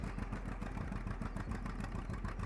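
A vintage old-iron tractor engine runs steadily nearby, with a low, even chugging throb and a light mechanical clatter throughout and no voices.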